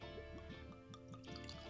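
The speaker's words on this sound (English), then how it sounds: "pour some of this Maker's Mark into my" Maker's Mark bourbon glugs into a glass in a quick run of small, rhythmic liquid gulps, close and quiet, over a faint background hum.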